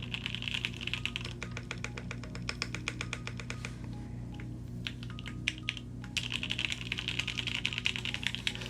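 Keystrokes on a Quarkeys Z67 keyboard with a carbon fiber plate and Gateron KS-9 switches come through as a rapid, muted, soft-clacking typing rhythm, briefly pausing midway, close up over a low background hum.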